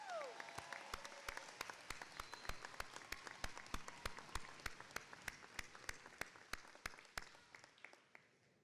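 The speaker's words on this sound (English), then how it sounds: "Can everyone give them another round of applause?" Audience applause at a 2023 high school graduation ceremony for the John Marshall School of Civic and Business Leadership, a steady roomful of clapping hands with crisp individual claps standing out, sustained and then slowly fading.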